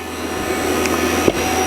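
A Fieldpiece VP85 vacuum pump runs with a steady, loud mechanical whine and hum, close by and unbroken apart from a brief click near the end.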